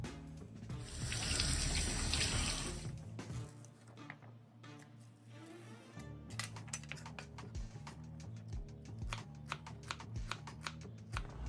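Tap water runs into a kitchen sink while celery is washed for a New Orleans-style shrimp, sausage and chicken gumbo. A loud, steady stream lasts a few seconds, then gives way to quick clicky chopping and handling taps. No one speaks.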